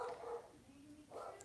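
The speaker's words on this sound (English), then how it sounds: "I wonder if you guys can hear that dog." A dog left outside barks twice in the distance, faint and separated by a short pause.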